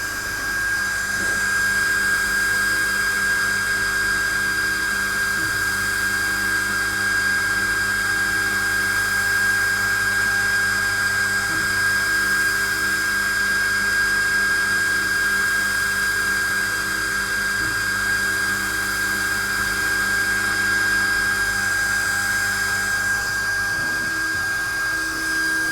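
A laser module runs on a Hasse Cut2500s CNC machine during a test, with a steady, high-pitched whine and hum that continue unbroken throughout, close and alone with faint mechanical ticks.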